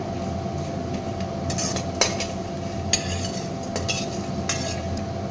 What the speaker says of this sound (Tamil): பெருங்காயம் வந்து ஐம்பது கிராம் எடுத்துகிட்டு அதை சின்ன சின்ன பீஸாக கட் பண்ணி போட்டிருக்கீங்க அடுப்பை வந்து சிம்மில் வச்சு இதை நல்லா வறுத்துக்கலாங்க